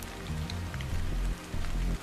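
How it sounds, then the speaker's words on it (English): Rain falls steadily in the Stellar Blade game, a soft continuous patter of drops under a low rumbling ambient backdrop, with no speech. "This must be Earth's rain."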